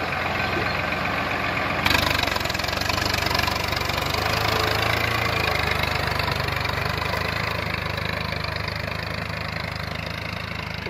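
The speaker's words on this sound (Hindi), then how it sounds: "काफी तेज ट्रैक्टर आता है" A heavy Swaraj 963 tractor diesel engine drones steadily at close range while leveling a long field, with a low rumbling chug throughout and no voices.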